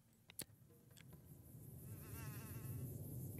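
Flies buzz in Fallout: New Vegas, a faint, steady insect drone that wavers and grows a little louder toward the end, with a few soft clicks early on.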